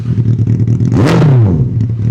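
Up close, a loud second-hand superbike engine idles with a throbbing rumble, then blips hard into one sharp rev that climbs and falls back over about a second before settling again.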